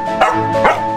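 A dog gives two short barks on command in a film scene, each bark sharp and close, with a steady tonal hum running beneath them.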